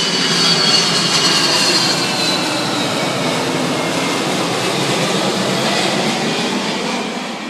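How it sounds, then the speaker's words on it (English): Loud roar of an airplane passing overhead, a broad rushing engine noise that swells early then slowly fades, with no talking. "Airplane."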